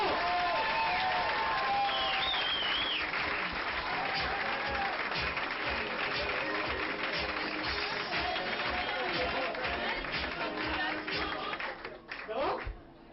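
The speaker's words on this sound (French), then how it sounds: "Donc on applaudit fort dans les mains." A comedy club crowd applauds and cheers loudly and without a break, with whistles and shouts rising over the clapping before the noise drops away near the end.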